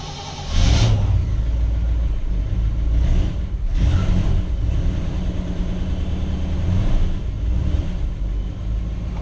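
A 1959 Chevrolet Bel Air with the choke set turns over, catches with a loud burst and settles into a rough, steady idle, close by, with no talking.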